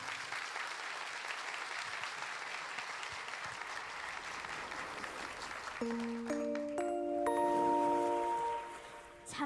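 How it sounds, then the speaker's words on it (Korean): Audience clapping for a children's choir performance at Korea's 31st Ocean Day ceremony in Busan fills the space steadily, moderately distant, then bright chiming bell-like tones enter over the applause toward the end. "여러분 박수 부탁드립니다."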